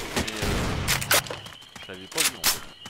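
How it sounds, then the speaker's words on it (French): Gunfire in Left 4 Dead 2 crackles in a few sharp bursts across a swamp level, mixed under overlapping player voices talking throughout. "Arme à feu"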